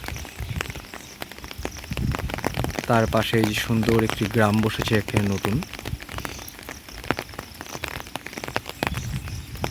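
Rain patters on a village pond in a steady crackling hiss, close and continuous, with someone speaking over it for part of the time.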